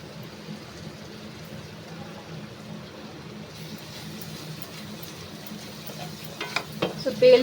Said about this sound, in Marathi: तेल सुटेपर्यंत हलवत राहायचं.